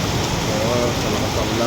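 Heavy rain pours down in Vietnam as a dense, continuous hiss and roar of drops on surfaces. It is loud and steady throughout the short stretch.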